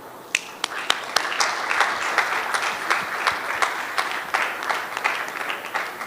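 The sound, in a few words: audience applauding the Honorable Minister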